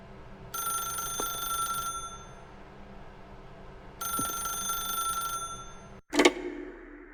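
A telephone rings in The Stanley Parable: Ultra Deluxe, two separate bursts of bright electric bell ringing a few seconds apart, followed by a sharp clatter as the receiver is picked up.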